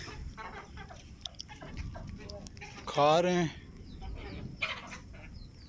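Hens cluck and squawk nearby, with one louder drawn-out call standing out, while a person talks over the background.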